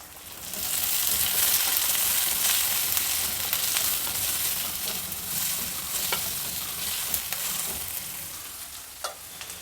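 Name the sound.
vegetables and tomato frying in oil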